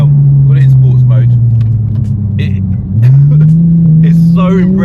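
A replica Porsche 911 GT3 RS, a 2009 car warmed up and driven in sports mode, holds a loud, steady engine drone that dips briefly and then climbs again, with people talking over it.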